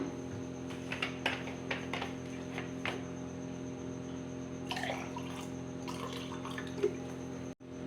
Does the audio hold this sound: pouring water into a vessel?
yes